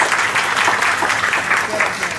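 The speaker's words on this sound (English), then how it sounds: "Once again a big round of applause" Steady, dense applause from children at a school parent orientation fills the whole moment, a continuous wash of clapping without pauses.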